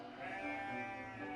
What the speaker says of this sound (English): Come, sheep. Come, sheep. Come on.